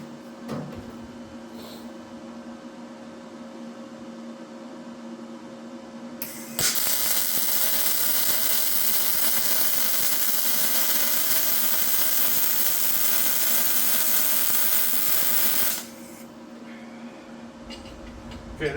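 A YesWelder DP200 multi-process welder lays a wire-fed weld on a synergy setting that overfeeds wire, giving a harsh, steady, close crackling hiss for about nine seconds that starts and stops abruptly, with a quieter hum before and after.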